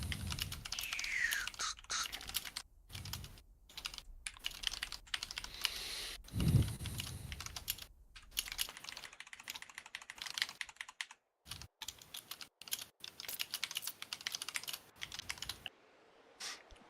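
Keys on a computer keyboard clack in irregular bursts of close, crisp taps with short pauses between, while quiet voices talk in the background.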